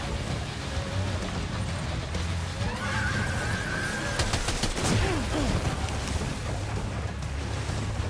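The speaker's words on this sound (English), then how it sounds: "Got the old machine gun, shall we?" Machine gun fire in Death Stranding 2, rapid crackling bursts over a busy game soundscape with whinny-like cries and a low rumble, loudest midway through.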